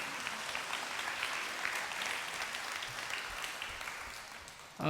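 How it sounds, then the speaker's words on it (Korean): A church congregation claps in sustained, moderately distant applause that holds steady for several seconds and tapers slightly toward the end. "여러분 뜨거운 박수로 축하해 주시기 바랍니다"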